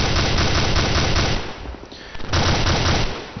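Dense, continuous automatic suppressive gunfire in an ARMA 2 combat mission, loud and close, with a brief lull in the middle before the rapid bursts resume.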